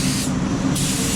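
Dye sprayed onto an automotive interior gives a close, steady, loud hiss that dips briefly midway and then resumes at full strength.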